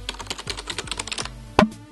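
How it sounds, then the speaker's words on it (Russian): Plasticky-sounding computer keyboard being typed on, a quick steady run of light clacks close by, ending with one louder thump near the end. "почему-то эта клавиатура звучит какой-то пластмассовой"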